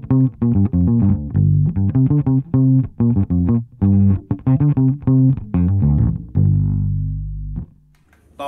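An electric bass runs through a Zoom B1 Xfour multi-effects amp model, playing a punchy riff of plucked notes with a slightly driven tone before a long held note rings out.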